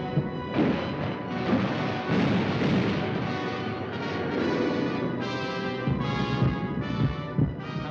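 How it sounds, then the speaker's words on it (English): Wartime gunfire from the Battle of Britain, a dense, continuous rumble of blasts and crashes throughout, loud and unbroken, with no speech over it. "gunfire in the southeast."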